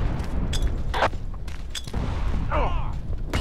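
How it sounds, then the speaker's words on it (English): Grenade explosions and gunfire in a crowded Battlefield Vietnam multiplayer match: several sharp bangs and thuds over a constant low battle rumble, with a brief metallic sweeping sound near the end. "they're spamming grenades"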